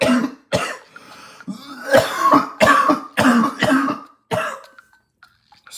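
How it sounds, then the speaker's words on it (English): A person coughs repeatedly up close, about seven loud, harsh bursts in an uneven rhythm with short gaps, ending in a quieter throat clearing. "I just had a little something in my throat. And I literally have to cough it out."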